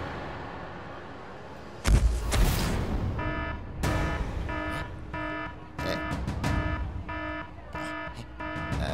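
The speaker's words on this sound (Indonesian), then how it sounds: "itu bunyi alarm" An alarm sounds in repeated short electronic beeps with a bright, tonal buzz, pulsing in an even rhythm after a couple of sharp bangs and a rushing burst of noise.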